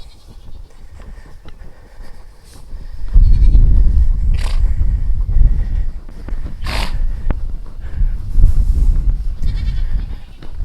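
Goats bleat several times at close range on a farm over a rumbling, noisy outdoor background, with loud low thumps and handling noise between the calls.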